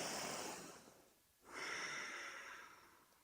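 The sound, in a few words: deep breathing, inhale and exhale during yoga exercise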